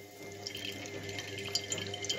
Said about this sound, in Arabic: شايفين الميه اللي نازله، واصفيها كده اهي